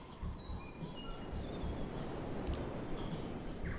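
A model train running in the Rolling Line VR model railroading game, a steady rumbling clatter of wheels on track with faint high squeals, continuous and fairly close.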